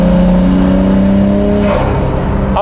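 A Nissan Skyline BNR34 or BCNR33 with an APEXi Power Intake air filter, its engine droning loud and close at a steady pitch before the revs drop away, with no talking.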